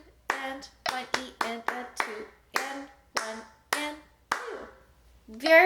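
Hands clap out a steady rhythm, about a dozen crisp, close claps spaced in an even pattern during a flute lesson counting exercise, with a short voice or noise at the end.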